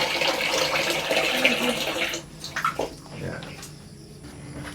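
Water gushes strongly from a faucet into a bucket in a campsite restroom, a loud steady rush for about two seconds, then drops to quieter splashes and trickles with a voice talking faintly over it.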